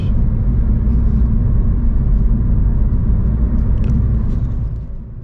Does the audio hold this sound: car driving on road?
yes